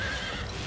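Horse neighing from mounted archers in the video game Fire Emblem Three Houses, a brief whinny heard over steady game music and battle noise.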